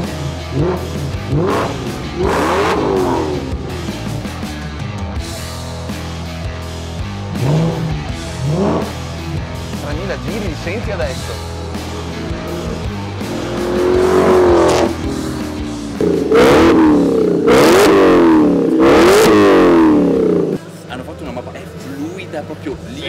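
An Audi S4 with a very loud aftermarket exhaust revs repeatedly in sharp, rising bursts. The close, booming exhaust alternates with someone speaking over and between the revs.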